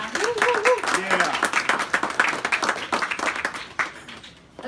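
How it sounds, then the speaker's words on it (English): A charity jazz brunch audience breaks into dense, sustained applause, with clapping filling the room for several seconds and a voice briefly audible near the start before the clapping thins out at the end. "How about a round of applause for Jeffrey Bryant and all the Fresco staff?"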